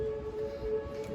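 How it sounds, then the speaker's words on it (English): Tornado siren in Oklahoma City during a February storm, a faint steady wailing tone heard from far off, sustained for the whole stretch over a low rumbling background. "I think I heard the tornado siren again."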